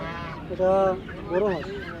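Ducks at a duck stall in a village market in Fatullah, Narayanganj, give two loud, close honking calls, one after the other, over low background noise.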